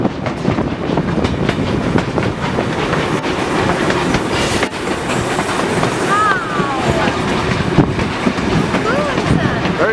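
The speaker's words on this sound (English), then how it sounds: "Here we are on a free train ride to the Thirlmere Train Museum." A free train ride to the Thirlmere train museum, with steady rolling rumble and clickety-clack of the carriages throughout, brief wheel squeals near the end, and people talking faintly beneath.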